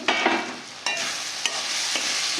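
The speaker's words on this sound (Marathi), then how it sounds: "एकदम आपली कांद्याची पात चांगली परतली गेलेली आहे।" Spring onion greens sautéed in a pan for eggplant bharit, a few sharp scraping stirs over a steady close sizzle, no speech.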